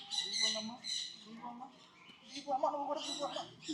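Pet lovebirds and macaws squawk and chirp in harsh, repeated calls close by, with people talking over and between the birds.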